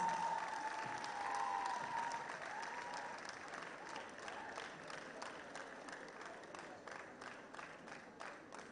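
Steady applause from a Model United Nations conference audience at NISSMUN 2025 in Nigeria, a full hall clapping at moderate distance that thins gradually toward the end, with a faint voice briefly audible early on.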